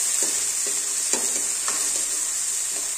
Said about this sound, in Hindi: आलू के साथ 2-3 मिनट इसको थोड़ा सा भून